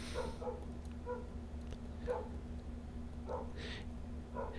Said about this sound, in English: Yeah, there's a dog barking out there.